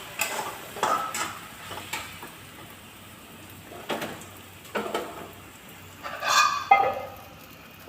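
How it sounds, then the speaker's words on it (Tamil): Appam batter swirled around a hot pan over a medium gas flame, making soft scraping and swishing sounds in short bursts with faint sizzling between them and a louder burst near the end, with no talking. "இந்த மாவு சுற்றி விடுவோம்."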